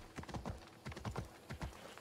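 Horse hooves clip-clop steadily in Assassin's Creed Odyssey, a quick, even rhythm of several soft, close hoofbeats with no talking.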